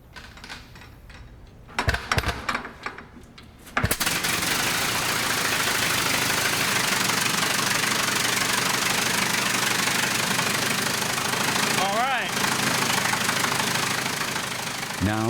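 A few sputtering coughs of the piston engine on a Wright Flyer replica give way to a loud, steady, knocking roar that runs continuously at close range, with a brief dip near the end.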